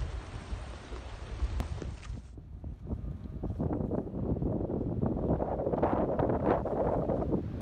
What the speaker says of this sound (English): Essaouira is famous for being a windy beach